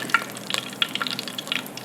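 Light crackling and popping of onion rings frying in oil that is not hot enough, scattered small sizzles at close range with no talking.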